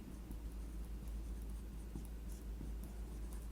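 Marker or chalk squeaks and taps faintly on a board while a math problem is worked out. The writing sounds are brief and light over a steady low room hum.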